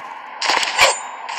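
A short burst of rapid automatic gunfire from a shooter video game, several quick loud shots clustered together, with a brief metallic ring trailing after.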